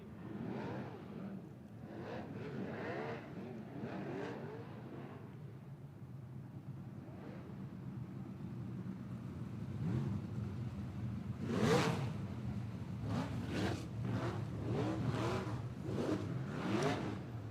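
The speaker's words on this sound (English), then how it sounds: "Here we go, sprint car heat race action, heat number 3." Sprint cars roar through a heat race at a New Zealand speedway, engines droning loud and steady with repeated revving surges as the pack passes close, no talk over it.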